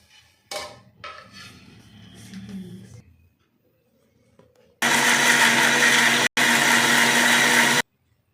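A mixer grinder runs loud and steady for about three seconds, pauses for a split second, then grinds on, blending tomato, ginger, garlic, onion, cinnamon and cloves for avarekalu sambar. Quieter kitchen clatter comes before it.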